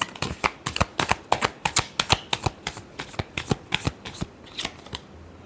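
Tarot cards are shuffled by hand in a close, crisp series of about twenty rhythmic flicks and slaps, fairly loud and with no voice.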